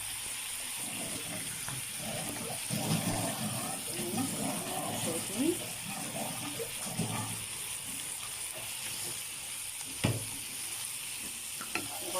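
Food being stirred in a frying pan after onion powder, garlic powder and black pepper go in, giving a steady close sizzle with scraping stir sounds, a few sharp clinks and a voice speaking over it.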